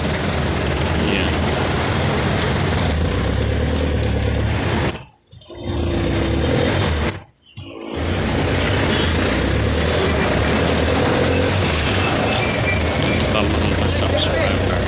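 A passenger vehicle's engine droning steadily as it pulls away on a commute, loud and continuous with road and wind noise, briefly cut by two short dropouts.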